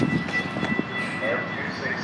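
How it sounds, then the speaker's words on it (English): An Amtrak train rushes through Burbank station, a broad roaring rumble of passing cars heard up close, with excited voices over it. "That's Amtrak, dude."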